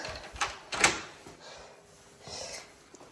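Apartment double door on a third-floor landing in Finland opening, heard as a few faint clicks and soft thumps of the latch and door against a quiet hallway hum.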